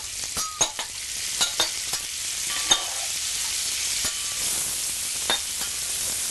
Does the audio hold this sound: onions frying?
yes